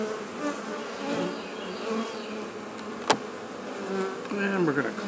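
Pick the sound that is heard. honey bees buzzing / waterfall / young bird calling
honey bees buzzing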